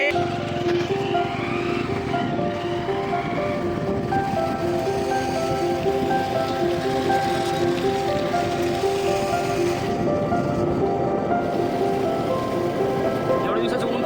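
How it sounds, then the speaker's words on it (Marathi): Rain begins to fall and a cold wind blows during a motorbike ride on the Pathardi Ghat road: a loud, continuous rushing hiss of wind and rain, close and unbroken for the whole stretch. "पाऊस थेंब पाऊस पण पडू लागला, थंड वारं पण लागू लागलं"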